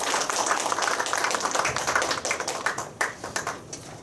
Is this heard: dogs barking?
no